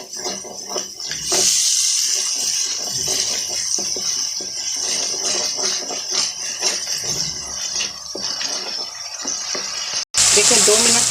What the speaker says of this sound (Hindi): मसाले को 2 मिनट तक भूनेंगे अच्छी तरह।